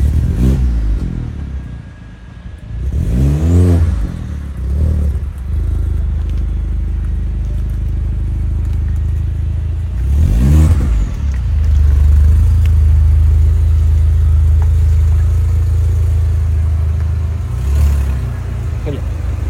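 Car engine idling and revving as the car pulls out on a rainy day, a steady low rumble with a few sharper revs rising and falling, heard close up with no talk over it.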